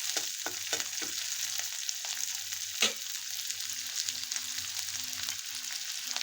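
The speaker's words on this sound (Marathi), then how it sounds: "कांदा चांगला लाल होईपर्यंत परतून घ्यायचा" Onion sautéing in a pan for tondli bhaji, a steady broadband sizzle with a few stirring scrapes and a brief louder clink near the middle, continuous and close with no talking.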